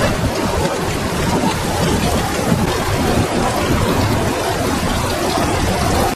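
Steady heavy rain pours continuously on surfaces outdoors, with low rolling thunder rumbling underneath, dense and close with no voices.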